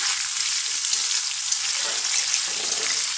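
Whole garam masala spices fry in hot oil with a loud, continuous bright hiss and sizzle, close up and steady, with faint stirring underneath and no voices.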